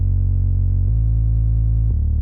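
A synth bass built from a square wavetable, run through diode distortion and an MG Low 6 filter, plays three sustained, buzzing, heavily distorted notes in sequence, loud and dry with no other sounds.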